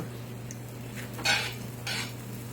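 Green chilies and three kinds of cheese stirred in a cast iron pan, with soft scraping and a couple of brighter clinks of a utensil against the metal over a low steady hum.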